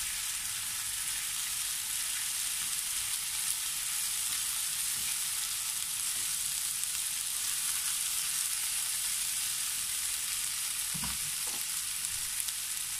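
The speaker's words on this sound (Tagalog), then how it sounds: "hahaluin po muli natin para hindi po didikit sa ating lutuan" Chicken afritada frying in a pan gives a steady, even sizzle throughout, with a couple of brief stirring scrapes near the end, close and with no voices.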